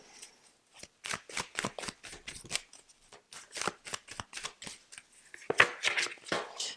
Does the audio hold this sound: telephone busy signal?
no